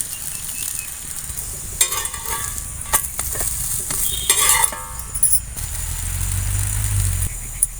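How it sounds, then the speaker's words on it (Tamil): Millet and wheat flour chapati sizzling on a hot dosa griddle over a stove, with steady frying hiss and scattered clinks and scraping of a utensil. "இப்போ நம்ம தோசைக்கல்ல அடுப்பில் வச்சுக்கலாம் இப்போ நம்ம சப்பாத்தியை போட்டுக்கலாம்"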